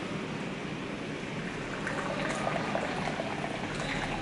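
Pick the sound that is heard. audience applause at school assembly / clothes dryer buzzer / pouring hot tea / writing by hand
pouring hot tea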